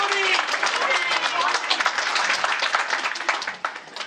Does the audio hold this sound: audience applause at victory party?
yes